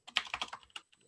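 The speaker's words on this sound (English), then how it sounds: "Typing live is always an interesting endeavor." Rapid keystrokes on a computer keyboard during a live session, a quick irregular burst of close clicks followed by a pause and a couple of softer taps.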